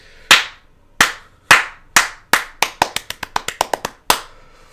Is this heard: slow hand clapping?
yes